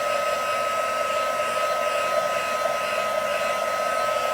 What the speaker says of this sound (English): We're just helping dry the back because that's going to even out your cardstock.